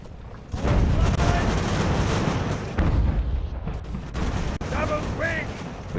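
Mortar and artillery fire in the naval-era strategy game Ultimate Admiral: Age of Sail, during the burning of Norfolk: heavy, rumbling cannon blasts recur in a steady barrage, with several sharper booms standing out.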